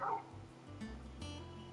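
A dog in the video game Final Fantasy 16 gives short yips and whimpering bow-wow barks, a few quick bursts near and fairly quiet over a low game soundscape with no talking.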